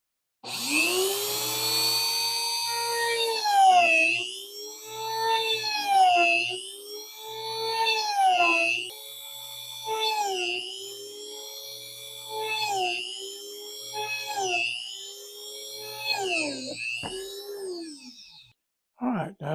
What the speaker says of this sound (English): now we're coming over to the drill. We are fixing to start putting holes in it.